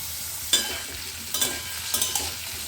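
Vegetables, including cauliflower, sizzle in a frying pan while a spatula stirs them in a few scraping strokes over a steady hiss, close up with no talk.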